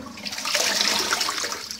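A toilet flushing nearby, heard as a continuous close rush of swirling water that lasts the whole short stretch without a break.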